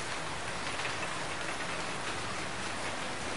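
Heavy rain pours in a steady, even hiss, a constant wash of falling water with no other sounds.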